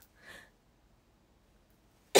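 A person sneezes once, fairly softly and briefly, near the start, followed by near silence and then a sudden loud burst at the very end.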